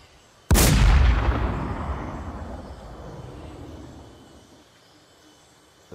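A single loud sniper rifle gunshot crack with a long rolling echo that fades over several seconds, in the video game The War Z.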